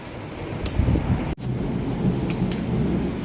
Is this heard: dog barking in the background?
no